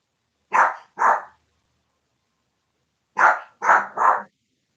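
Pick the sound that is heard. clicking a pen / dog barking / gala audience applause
dog barking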